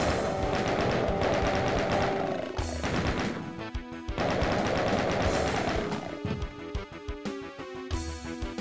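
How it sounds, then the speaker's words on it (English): Rapid continuous gunfire from the chain gun in DOOM (1993), loud bursts of repeated shots interrupted by short gaps, with crashing impacts and game noises mixed in, no talk. "I have the chain gun."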